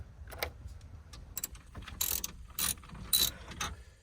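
Ratchet wrench backing out 7mm screws from the radio trim in a Ford F-series truck, with short bursts of quick metallic clicking separated by brief pauses, close and clear.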